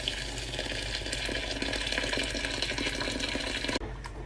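Boiling water pouring into a pot of red lentils for hot and sour soup, a steady close gushing, splashing rush that runs for several seconds and then breaks off abruptly near the end.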